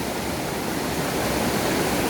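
A steady, full roar of falling water from a waterfall on a mountain trail, close and continuous with no breaks or voices.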